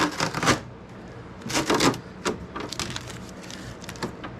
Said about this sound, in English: Let's take some of this tape off.